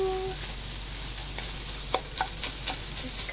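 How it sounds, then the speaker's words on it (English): Ground beef sizzles in a hot pan for loaded nachos while a flat-edged spoon chops it up, sharp scraping taps landing irregularly over the steady close frying hiss. "I just want to chop the ground beef up really teeny tiny"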